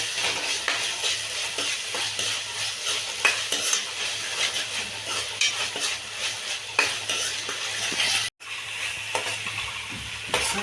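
Ginger and garlic being stirred in a cooking pot, a steady, close scraping and sizzling that keeps up without pause, with brief utensil knocks against the pot and one short drop near the end.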